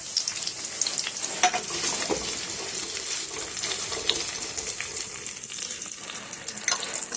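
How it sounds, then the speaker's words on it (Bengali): Chopped vegetables hiss loudly in hot oil in a wok, a continuous close sizzle with scattered crackles and occasional scraping as they are stirred, and nobody speaks. "এবারে কেটে রাখা সবজিগুলো আমি একে একে এর মধ্যে ভাজা করে নেবো"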